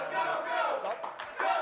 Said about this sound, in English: The crowd cheers for him.